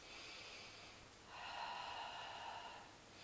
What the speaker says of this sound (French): J'expire, fermeture périnée, contraction du transverse.